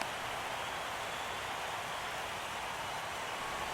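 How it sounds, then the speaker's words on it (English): Steady rain falls during a World Series baseball game between the Twins and Dodgers, a constant even hiss of drops holding at one level throughout with no voices. "we've mentioned the conditions aren't ideal with the rain coming down"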